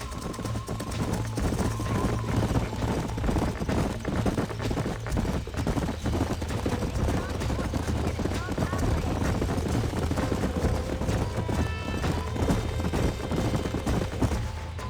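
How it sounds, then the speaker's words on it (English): Horse hooves clip-clop steadily on a ranch in Red Dead Redemption, a busy, even rhythm mixed under game music, ambient noise and occasional gunfire-like bursts. "These are fine horses."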